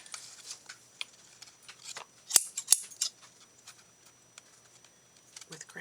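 Scissors snip close by in a quiet room, soft scattered clicks building to a few sharp, crisp cuts near the middle, then trailing off into faint paper handling.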